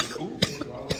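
Two short, sharp coughs after a drink went down the wrong pipe, close to the microphone and separated by half a second, with a faint small throat sound between them.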